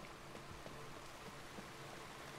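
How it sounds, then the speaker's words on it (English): Steady, soft video game rainfall in Skyrim hisses continuously with scattered faint drop patter, fairly quiet and uniform throughout. "and it's raining again."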